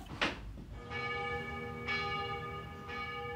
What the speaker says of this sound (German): Aber die Glocken der Pfarrkirche werden auch dieses Jahr zur Christmette die Weihnacht einläuten.